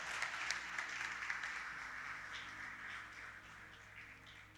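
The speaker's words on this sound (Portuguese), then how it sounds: "Aplauda ao Senhor" A church congregation at a men's worship service claps for a few seconds, a faint, fairly distant patter that is strongest early and gradually thins out over a low hum.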